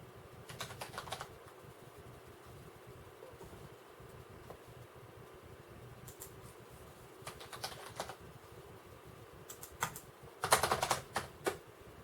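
Soft clicking keystrokes on a computer keyboard in a quiet room, scattered through with brief pauses and ending in a quicker, louder flurry of taps near the end.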